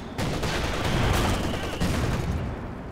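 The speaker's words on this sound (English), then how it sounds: "sounds like he's gone for a mortar team now" Battle noise from the game Company of Heroes 2, with heavy, continuous gunfire and explosive booms from mortar fire that stay loud and muddy throughout.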